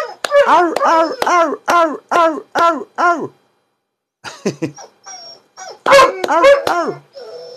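Several dogs howl and whine together in a choir-like run of rising, wavering cries, loud and close, pausing for a few seconds of near silence before another burst of howling.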